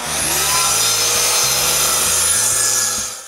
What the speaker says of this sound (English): I start by cutting the 2x10s to the right length